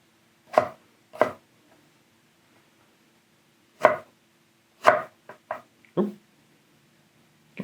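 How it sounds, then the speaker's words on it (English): A Shiro Kamo kitchen knife dices a heavy, sturdy vegetable on a board: sharp, separate chops come in irregular bursts with quiet gaps between them. "I'm just going to give this guy a quick dice here, see how that goes"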